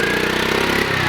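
A pit bike engine idles steadily after being fully submerged in water, a close, continuous mid-pitched putter with a fast even pulse and no speech.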